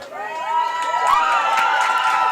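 A football crowd at the county ground murmurs and cheers in anticipation just before kickoff of a women's senior cup final, a steady wash of voices with scattered higher shouts.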